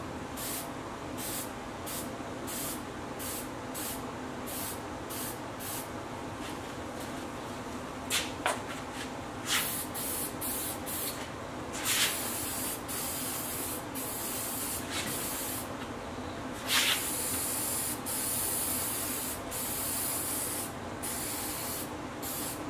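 A protective barrier coat is sprayed onto machine surfaces in a workshop, giving a continuous hissing spray broken by many short bursts and pauses as the trigger is pulled and released, close and fairly loud.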